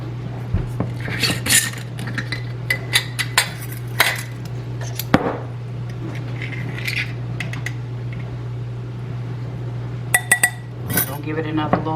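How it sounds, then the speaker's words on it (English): A spoon stirs muffin batter in a mixing bowl, giving scattered clinks and scrapes against the bowl at close range. A steady low hum runs underneath. "Give it another little stir around."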